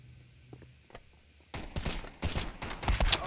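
Rapid bursts of gunfire in the video game Counter-Strike 2, aimed at a grenade, erupting after a quiet stretch and then rattling on loudly with dense overlapping shots.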